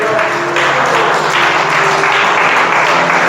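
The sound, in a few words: church congregation applause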